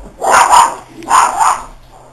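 A dog barks nearby in two loud doubled bursts, each a pair of quick woofs separated by a short pause.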